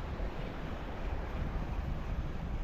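Sea surf rolling onto a shore while casting for fish in somewhat rough water, a continuous low rumbling wash with wind noise on the microphone, steady and fairly faint throughout.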